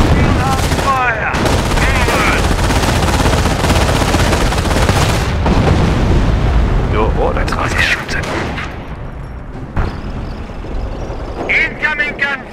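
Dense battle gunfire from the video game Company of Heroes: rapid rifle and machine-gun bursts crackle continuously, with explosions and shouted soldier voices mixed in, growing sparser near the end.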